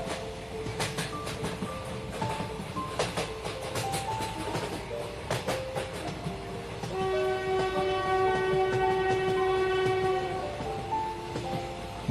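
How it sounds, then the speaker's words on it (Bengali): A train rolls along with rhythmic wheel clatter and repeated horn blasts, then sounds a long, sustained horn near the end over the running noise. "শহর ছেড়ে গ্রামের দিকে যতই ট্রেন এগোতে লাগলো"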